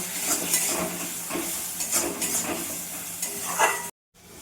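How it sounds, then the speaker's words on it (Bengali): Spice paste with red chilli and turmeric powder frying in a pan, a steady sizzle with a spoon stirring and scraping at intervals, close by, then a brief cut to silence near the end. "লাল লঙ্কার গুঁড়ো, হলুদ গুঁড়ো, এখন আমি মশলাটা কষিয়ে নেব।"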